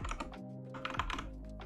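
Quiet clicking keystrokes from a computer keyboard during coding work, a quick irregular run of taps with a faint hum beneath.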